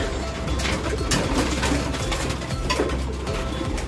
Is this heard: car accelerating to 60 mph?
no